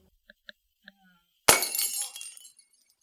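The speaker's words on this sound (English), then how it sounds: "If I were to drop this on the floor, would it shatter?" A few faint light taps come first, then a sudden loud crash as a glass object hits the floor and shatters, with tinkling shards scattering and fading over a second.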